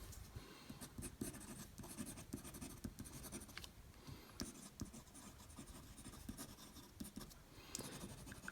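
Very quiet, close scratching of a fountain pen nib moving across toothy paper in steady strokes, a faint papery texture throughout, with no speech.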